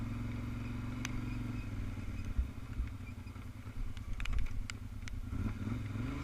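A Kawasaki Brute Force ATV engine running in low range on a trail by an old abandoned lease, giving a steady low idling rumble with light clatter and a few faint knocks, moderately quiet throughout.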